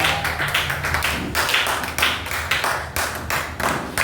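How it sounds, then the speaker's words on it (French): A church congregation applauding in a burst of rapid, dense hand claps that rise and fall in uneven waves, close and loud, with no voices standing out above the clapping. "Acclame encore pour le roi des rois."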